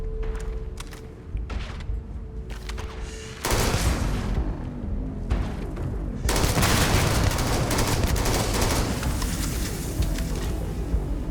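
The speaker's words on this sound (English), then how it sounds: "Sarah, take out the minigun." Rapid automatic gunfire from a minigun in the sci-fi video game Starfield: sustained dense bursts that grow louder and fuller about three seconds in, then roar on almost continuously with booming impacts.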